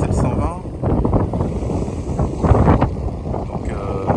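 Wind buffets a sailboat sailing solo in about 19 knots of true wind, a loud, gusty rush over the microphone, mixed with water and boat noise and someone talking throughout.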